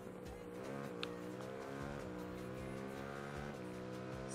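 A Yamaha MT-07 motorcycle engine roars in the racing video game RIDE 3. It holds a steady, rough drone whose pitch dips and climbs slightly with gear changes, continuous and fairly loud throughout.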